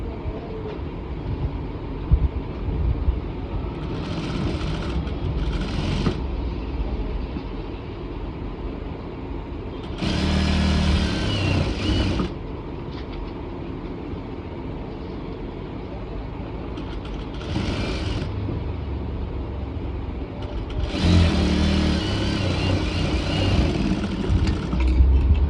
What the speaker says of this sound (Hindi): अब इसको यहीं से पकड़ते हुए हम नीचे की सिलाई लगा देंगे